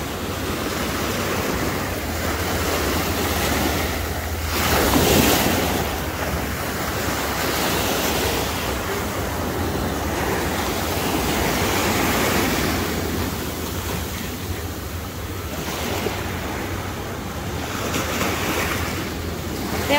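Ocean waves breaking on a beach at Ocean City, a continuous loud roar of surf with rolling swells and wind buffeting the microphone.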